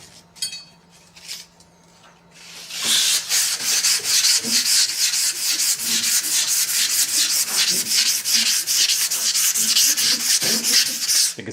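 Sandpaper of 320 grit, soaked with oil, scrubs a rusty Polaris ATV part in rapid, rhythmic back-and-forth strokes, loud and close, after a brief quieter pause with a few small knocks.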